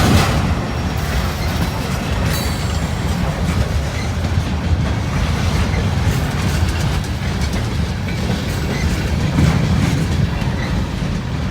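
A CSX or NS freight train rolls past close by, a loud, continuous rumble with clattering wheels and rail noise and occasional faint squeals, unbroken for the whole stretch.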